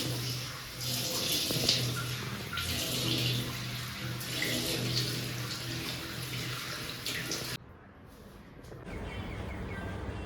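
A tap runs steadily into a sink while a face is washed, a close continuous splash and gurgle that briefly cuts out near the end before resuming, with faint birdsong outdoors behind it.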